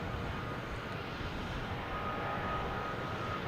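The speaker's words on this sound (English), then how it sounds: "we have the American Airlines 777-200 heading to London Heathrow" American Airlines Boeing 777-200 airliner heading out from Boston Logan Airport, a steady broadband engine roar that stays loud and even throughout with no talk.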